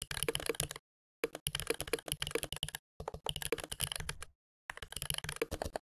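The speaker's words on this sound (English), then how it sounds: "as I'm typing my keys, it plays a mechanical keyboard sound" Laptop keyboard typing on a Mac with an app adding mechanical switch sounds, quick clicky keystroke bursts separated by short silent pauses, close and fairly quiet, no talking.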